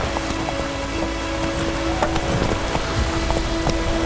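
Steady rain falls in The Witcher 3 video game, a dense, constant hiss on surfaces with faint scattered ticks, heard alone under a low hum of game ambience.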